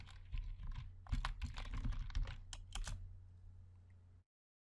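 Rapid, close keystrokes clatter on a computer keyboard in short bursts over a low steady hum, then stop abruptly.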